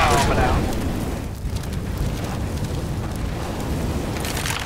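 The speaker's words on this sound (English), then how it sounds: "Grenade out." A grenade detonates in the game Counter-Strike: Global Offensive, giving a loud rumbling blast that booms at the start and then sustains as a broad roar, with a player's voice talking over it.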